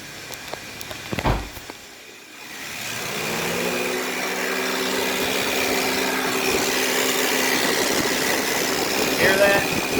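A 2010 Honda Odyssey minivan engine idles steadily after a brief clatter, with a sustained whining hum from a noisy power steering pump running under it.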